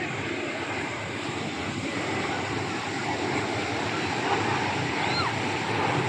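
An airplane lands at Cox's Bazar airport, producing a steady broadband engine roar and rushing air noise that holds constant throughout, with no voices.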